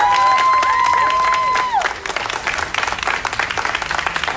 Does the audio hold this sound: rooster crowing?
no